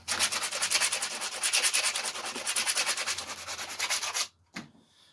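Quick, rhythmic rasping strokes of a file or abrasive work the burrs off a 460 mm steel throwing knife for about four seconds, then stop, leaving a single faint knock.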